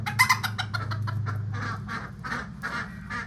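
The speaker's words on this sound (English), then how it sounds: "There's Danny DeVito, the rooster, see?" Chickens cluck and chatter in quick, uneven bursts, with a rooster's voice mixed in, close by over a low steady hum.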